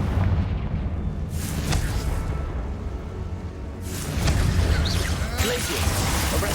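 Confringo fire spell blasts in Hogwarts Legacy, a couple of loud bursting booms over a rumbling game background, with a voice speaking in places.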